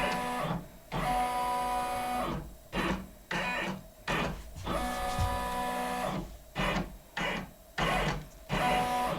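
A computerized embroidery machine traces the design outline on a stuffed bunny's ear, giving steady mechanical whirring in bursts separated by short pauses, close up with no talking.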